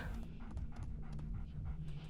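A dog in a video game pants in quick, soft breaths with faint whimpers, close and quiet over a steady low game hum.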